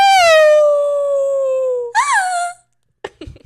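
A human voice imitates a wolf howl, a long loud descending wail followed by a short rising-falling cry, then brief laughter and talk close to the microphone.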